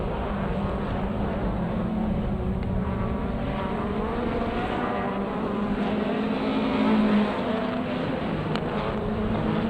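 A front-wheel drive rallycross racing car at a club championship round, engine roaring loudly and steadily throughout with a constant rasping drone, no talk.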